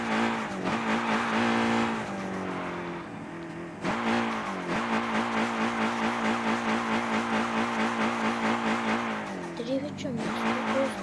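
A car engine runs steadily and close by, its drone rising and falling as the vehicle drives, with a brief dip near the middle, and voices talk over it.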